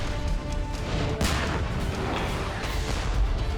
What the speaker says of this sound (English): It's the heaviest hitter on the battlefield. With a punch so devastating, it's been known as the king of battle.